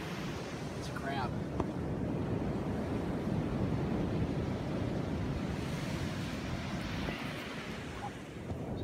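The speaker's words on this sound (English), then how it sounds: "So I'm sitting on the beach here." Ocean waves wash steadily onto a North Carolina beach in a continuous roar of surf, with wind buffeting the microphone throughout.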